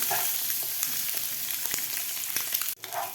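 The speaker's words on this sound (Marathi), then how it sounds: "बॉईल केलेले अंडे फ्राय करून घ्यायचे आहेत" Boiled eggs fry in hot oil with a dense, steady sizzle and small pops, close and fairly quiet, briefly interrupted near the end before the sizzling resumes.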